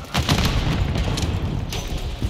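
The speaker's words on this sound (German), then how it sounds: "Da kommt eine Betäubungsgranate." A stun grenade goes off in the Call of Duty Modern Warfare 3 video game, a loud booming blast followed by a sustained roar of rumbling noise lasting a couple of seconds.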